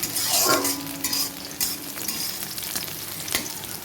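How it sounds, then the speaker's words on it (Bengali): Chillies, cut so their seeds crisp, frying in a pan of oil for dal, giving a steady, close sizzle with occasional stirring scrapes throughout, no talking. "লঙ্কাটা দিয়ে দিয়েছি ভাজা হয়ে গেছে"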